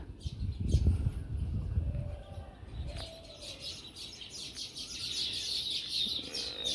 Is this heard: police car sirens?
no